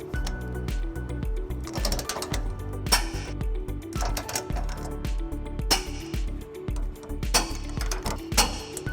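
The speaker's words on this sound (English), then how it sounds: "we're going to go ahead and torque them following the manufacturer's instructions. And we're going to use a 21mm socket to tighten those up." Torque wrench with a 21mm socket tightening trailer hitch bolts on a 2016 Chevrolet Colorado, heard as rapid repeated ratcheting clicks in bursts, close and fairly quiet, with no talk.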